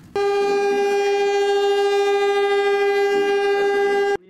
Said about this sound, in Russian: Тем пронзительнее гудок.